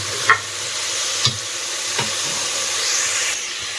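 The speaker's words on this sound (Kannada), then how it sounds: "ಈಗ ನಾನು ಪಡವಲ್ಕಾಯಿನ ಹಾಕ್ತಾ ಇದ್ದೀನಿ ಹೆಚ್ಚಿಗೆ ಸ್ವಲ್ಪ ಎಣ್ಣೆಯಲ್ಲಿ ಪಡವಲಕಾಯಿ ಒಂದು ಮೂರಿಂದ ಐದು ನಿಮಿಷ ಇದೇ ರೀತಿ ಫ್ರೈ ಮಾಡ್ಕೊಳ್ಳಿ" Snake gourd frying in a little extra oil in a pan, a constant close hiss and sizzle with a few soft knocks of stirring at irregular intervals, no talking.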